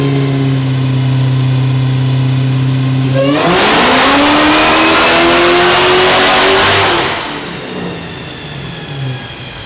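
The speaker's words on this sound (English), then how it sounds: "it's doing a burnout on the dyno" A 1400HP Dodge Demon engine idles on a dyno, then revs hard during a burnout and holds at a loud, high pitch for several seconds before dropping back, all close up with no voices.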